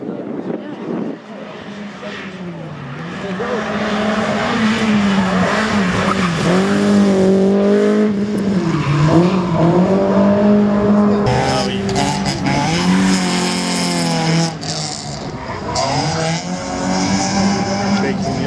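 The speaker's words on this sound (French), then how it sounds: "Et en piste, donc, nous avons Jonathan Mabir sur cette 106." A Peugeot 106 race car at the 2018 Saint-Lô slalom revs hard, its engine pitch rising and falling through gear changes, with brief tire squeals. A commentator's voice sits under the engine noise.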